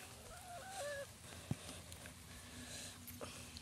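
Chickens cluck softly at a distance, with a few rising and falling calls early on and a sharp knock midway over a quiet background.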